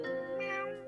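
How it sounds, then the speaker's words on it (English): A cat named Buster gives one drawn-out, fairly quiet meow close by, rising and then falling in pitch. "The cat's here."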